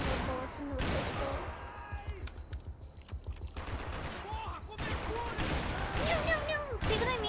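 Shotgun and other gunfire from the game Max Payne 3, with dense bursts of repeated shots and crashes at close range, loud throughout, while a person talks over much of it.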